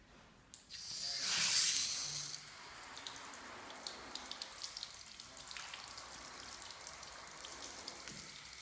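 Water sprayed onto a motorcycle's plastic fairing: a brief hissing spray burst, followed by a steady patter of drips and droplets running off the surface, close and moderately loud.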